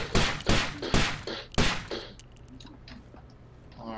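Rapid gunfire from Takedown: Red Sabre, a tactical shooter game, with about four loud, sharp bursts in quick succession, then a quieter stretch of low rumble and faint clinks.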